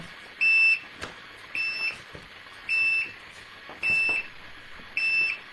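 A CO2 meter alarm sounds five short, high electronic beeps at a steady interval, each lasting about a quarter second, clear and close in an otherwise quiet room.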